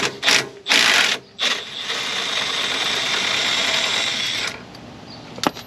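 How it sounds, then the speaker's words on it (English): A ratchet with a 15 mm socket undoes the strut bolts on a 2015 Tahoe/Silverado 1500, giving a few short, loud ratcheting bursts and then a longer run of close, rapid clicking that stops abruptly. "So we grabbed the 15 mil again, and we're gonna go ahead and undo the bolts for the strut"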